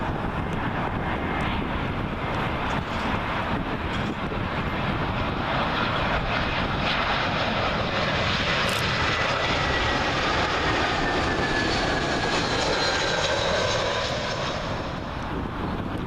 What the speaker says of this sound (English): Arriving next, British Airways A320, and this one arriving from Nice.